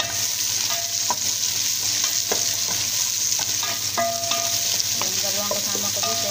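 Onions fry in a pan for mung bean stew with cabbage, a steady loud sizzle under intermittent scraping and light clinks of a stirring utensil.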